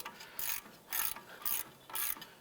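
A hand ratchet clicks in four quick bursts while loosening a brake caliper bracket bolt on a 2006-2011 Cadillac DTS, each burst a close, crisp run of clicks with short pauses between.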